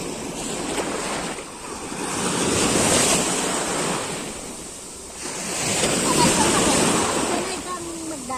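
Ocean waves wash onto the shore in a continuous broad roar that swells and eases in slow surges, with wind rushing across the microphone and a voice faintly underneath.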